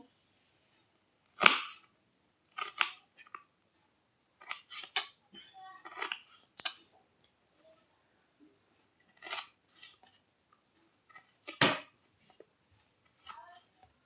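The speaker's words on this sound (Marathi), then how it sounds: "या कांदा कापायला" Onions are cut on a board with a knife, giving sharp, separate chops and clicks spaced irregularly over a quiet background, some loud and close, others faint.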